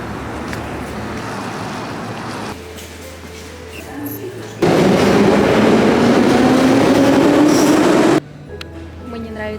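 Metro train rumbling through a Siberian subway station, a loud steady roar swelling midway and holding for several seconds before cutting back to quieter station ambience with faint background voices.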